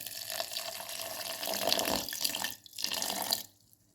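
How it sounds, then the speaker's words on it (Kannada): Water poured from a tap into a mixer jar over soaked rice for dosa batter, a steady close splashing rush that rises, pauses briefly, then stops. "ಅಕ್ಕಿ ಮುಳುಗುವಷ್ಟು ನೀರು ಹಾಕಿಕೊಳ್ಳುವ."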